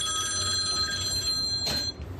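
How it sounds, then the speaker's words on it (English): A telephone rings with a steady, high electronic trill, close and clear, then stops abruptly after about one and a half seconds. A short clatter follows, likely the receiver being picked up. "October 1st, the phone rang."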